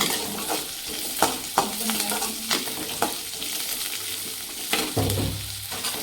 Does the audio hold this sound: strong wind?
no